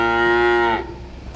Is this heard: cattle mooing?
yes